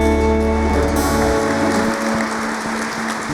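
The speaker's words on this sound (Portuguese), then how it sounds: "Todos podem dar uma salva de palmas para Jesus nessa noite." A church congregation claps together steadily, a dense wash of applause that carries on throughout, with a sustained musical tone fading beneath it early on.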